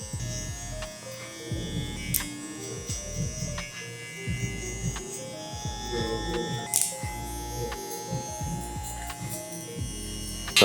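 Electric hair trimmer buzzing steadily close up while cutting hair during a zoned barber fade, a continuous motor hum with small pulsing changes as it moves over the head, running alone without talk.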